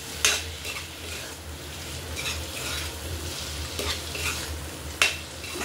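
Potatoes frying in a pan for an egg and potato curry are stirred with a utensil, giving a steady close sizzle broken by sharp scraping clinks against the pan near the start and again toward the end.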